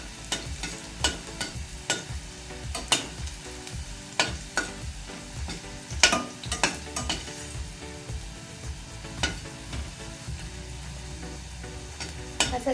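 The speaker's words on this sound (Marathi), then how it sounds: "तुम्ही बघू शकता मिरची अशी सोनेरी रंगावर भाजत आहे" Chillies roasting in a hot pan for kurmura chivda, a steady crackling sizzle broken by frequent sharp pops and stirring scrapes, close and fairly quiet, with no talking.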